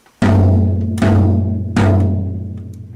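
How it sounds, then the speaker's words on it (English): Three loud, close whacks on a floor tom, the low drum of a four-piece kit. Each boomy, resonant hit rings out and overlaps the next, roughly three-quarters of a second apart. "That is the floor tom, or the low tom."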